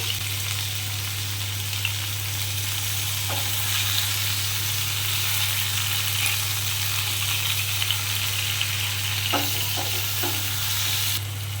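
Tomato pieces fry in hot oil with salt for a Bengali begun ilish dish, giving a steady, loud sizzle with a constant low hum and a few faint clinks of stirring near the end.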